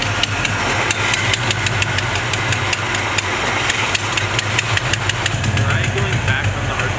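A 1970 Chevrolet C20 truck engine runs steadily at a fast idle, a continuous low rumble with repeated ticking clicks, while voices talk nearby.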